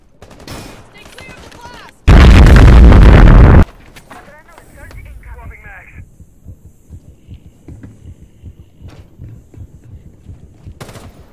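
A wall breach in the Rainbow Six Siege video game: a sudden loud, dense two-second blast burst, followed by quieter rumbling game sounds and a player speaking.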